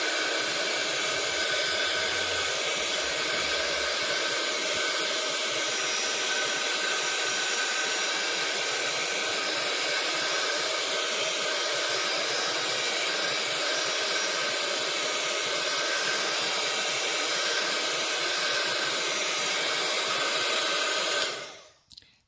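A heat tool blows a loud, steady whooshing roar while warming material for homemade textured craft stamps, unbroken for over twenty seconds before cutting off abruptly at the end.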